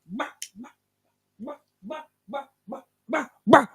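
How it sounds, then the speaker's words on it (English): A neighbour's dog barks in a series of short, sharp yaps and woofs, spaced irregularly with brief pauses and growing louder toward the end, heard fairly close and alone. "as soon as they leave, the dog just starts going."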